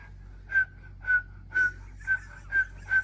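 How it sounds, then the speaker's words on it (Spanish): Six short whistled notes at the same pitch, evenly spaced and clear against a quiet background. "Cuando aprendes a silbar."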